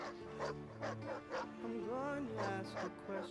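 A hurt dog in the Mad Max video game whimpers and yelps in a string of short, rising cries, fairly close and clear, with a few softer whines between.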